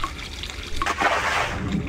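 Swimming through water in the video game Cry of Fear: close splashing and sloshing strokes with liquid trickles, gently rising in intensity over a short stretch.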